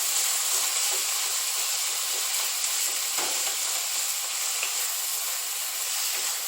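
Turkey meat frying slowly in a pan on low heat, giving a steady, even sizzle and hiss that runs throughout with no talking.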